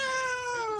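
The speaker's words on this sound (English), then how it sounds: "Hey, check out that black cat walking towards those people." A black cat meows once, a sustained, clear, close tonal cry that slowly falls in pitch, heard alone with no voices.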